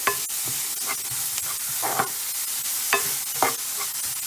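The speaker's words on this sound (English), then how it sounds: "I'm gonna mix my onions and garlic." Onions and garlic are stirred in olive oil in a pan, with a steady soft sizzle under repeated scraping strokes of the spoon, close and clear with no talking.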